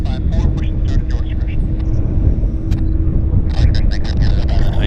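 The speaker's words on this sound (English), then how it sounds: "Vanguard takeoff" A Vickers Vanguard airliner taking off at Vancouver Airport, a steady loud engine roar captured outdoors in windy conditions, with a person talking over it in bursts.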